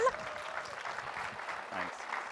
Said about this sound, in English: Can we give a little applause for Ron?